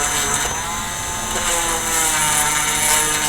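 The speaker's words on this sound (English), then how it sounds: "by using the drill in a circular motion." A power drill whines steadily and loudly while enlarging a hole in a model starship base, its buzzing pitch wavering slightly as the bit is moved in a circular motion.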